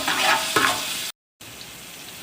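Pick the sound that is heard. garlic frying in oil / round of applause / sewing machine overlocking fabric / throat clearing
garlic frying in oil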